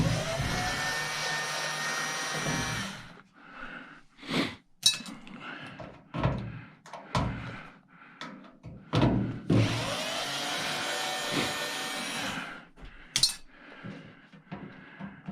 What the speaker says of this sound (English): Take out these screws on this side.